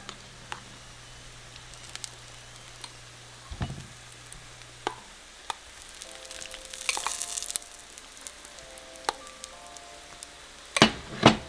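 Picaditas fry in a pan, a soft low sizzle beneath scattered clicks and taps of utensils, close and fairly quiet, with a few louder knocks near the end.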